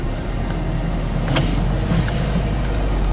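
A car pulls away uphill after the brake is released, giving a steady low engine rumble that stays level throughout with slight road noise.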